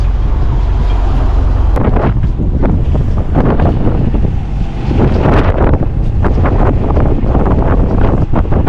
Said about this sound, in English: It's just a gust that hit